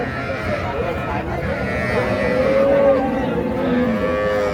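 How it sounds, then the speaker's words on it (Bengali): A Holstein Friesian dairy cow moos at a cattle market: one long, loud, drawn-out low call close by, with a second moo fading at the end and crowd chatter and voices underneath. "বাচ্চা সহ একটা গাবি রয়েছে হলস্টেন ফিজিয়ান"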